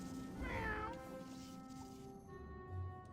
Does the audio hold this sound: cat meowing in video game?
yes